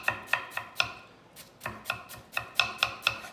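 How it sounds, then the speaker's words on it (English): A knife thinly slices cabbage on a cutting board in a steady series of about a dozen crisp, close chops with a short pause midway. "I just like it as a bit of filler in there. So I'm just gonna thinly slice that"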